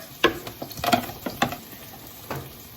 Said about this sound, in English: A couple tablespoons of oil, and we're going to throw in sliced scallions